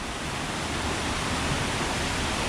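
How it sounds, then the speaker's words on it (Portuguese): Cirenaica waterfall in Santa Catarina, Brazil, a dense unbroken roar of falling water, loud and close, with no voices. "que é a Cachoeira do Cirenaica"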